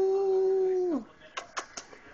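A dog whimpers indoors with one long, high, steady whine that bends down and fades, then a few short soft yelps or sniffs close by, with no talk over it.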